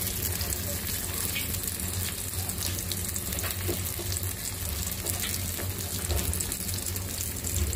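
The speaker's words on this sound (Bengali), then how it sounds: "কারকুল ভাজতে দিয়ে দিচ্ছি" Bitter gourd frying in a pan, a dense, even sizzle held steadily at close range throughout.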